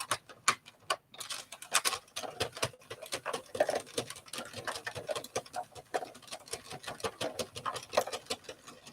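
A yarn knitting machine making hats and ear warmers runs with a steady stream of quick mechanical clicks and ticks, fairly quiet and close, with no talk.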